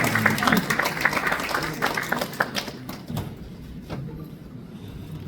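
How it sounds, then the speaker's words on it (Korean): Audience applause at a UNESCO Memory of the World certificate ceremony for the April 19 Revolution records, held in a small National Assembly meeting room, with dense clapping that thins out toward the end. "여러분 다시 한번 뜨거운 박수로 축하해 주시기 바랍니다"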